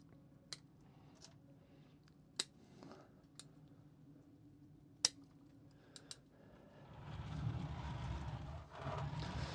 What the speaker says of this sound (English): I think we can just cut that one back right there.